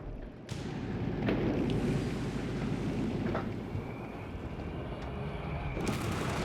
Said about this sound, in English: Mortar popping off a flare, getting some long range barrages off.